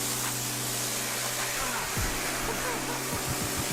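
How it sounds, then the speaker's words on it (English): A pressure washer sprays down a muddy two-door Jeep Wrangler Rubicon after a charity crawl event, a steady loud hiss of water spray running throughout, with a low engine hum underneath and a brief thumping burst midway. "Talk over the pressure washer."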